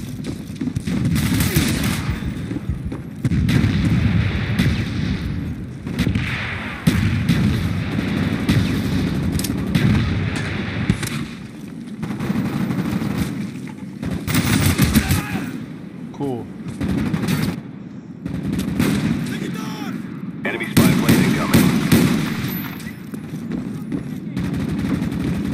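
Mortar blasts and gunfire in a Call of Duty Black Ops multiplayer match, with dense, continuous bursts of automatic fire and sharp shots broken by louder blasts, while game voices talk throughout.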